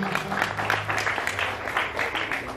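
Applause from a crowd at a commemorative evening for Bung Karno in Medan, a brisk, steady clapping of many hands, fairly close and continuous throughout.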